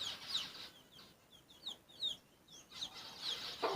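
A breeding pair of chickens, a rooster and a hen, clucking softly and repeatedly at close range, with short chirpy calls overlapping in an otherwise quiet setting.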